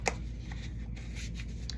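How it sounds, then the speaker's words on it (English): A deck of African tarot oracle cards on game-stock cardstock is shuffled by hand, a continuous soft riffling flutter of cards lasting under two seconds, close and clear. "they won't bridge well, but they shuffle beautifully"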